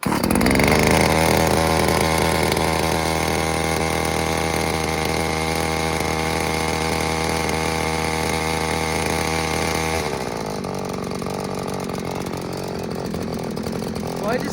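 A Little Beaver TCS4600 chainsaw engine runs steadily at a high, buzzing idle with the choke on, then drops to a lower, rougher idle for the last few seconds.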